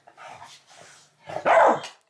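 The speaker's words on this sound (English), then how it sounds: "I don't have much time before my dogs go literally berserk again." Several dogs barking at home, a run of close, loud barks and yips that builds to a bigger burst of barking near the end.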